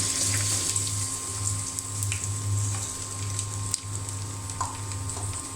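Chopped onion and whole cumin seeds fry in hot oil with a steady, broad hiss, joined by faint clinks and stirring, with a low steady hum running underneath the whole time.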